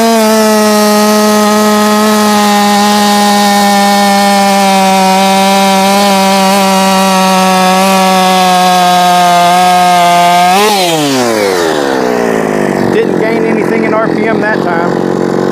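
A Jonsered 2156 chainsaw screams at high RPM with a loud steady whine for about ten seconds, then the pitch drops sharply and it falls to a rougher, unsteady idle.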